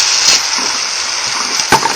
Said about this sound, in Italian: Aggiungo un po' di acqua del baccalà